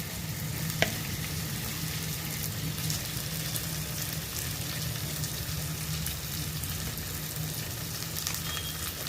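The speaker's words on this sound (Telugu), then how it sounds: "ఆ పచ్చి వాసన పోయేదాకా వేయించుకోవాలి నూనెలో" Oil sizzles steadily in a pan while frying for a gongura and raw prawn chutney, a constant moderate hiss with light crackle, one sharp clink near the start, and no voices.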